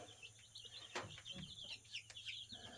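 Baby chicks housed alongside two Rhode Island Red chickens chirp softly in a scattered, continuous chorus of high peeps, with a few louder calls standing out over a low background hum.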